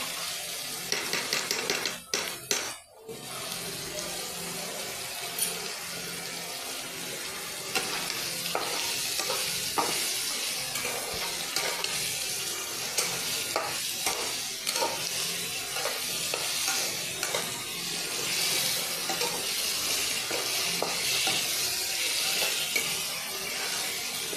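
Ginger garlic paste fries in a pan for a restaurant-style Bengali cauliflower kosha curry: a steady, close sizzle with repeated stirring scrapes, and a few metal clinks near the start.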